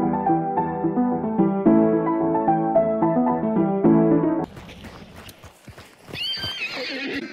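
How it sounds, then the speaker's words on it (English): A horse in the video game Hunt: Showdown whinnies loudly over layered tonal game sound, then hooves clatter and a second shrill neigh rises near the end, close and prominent with no talk. "Murder this fucking horse"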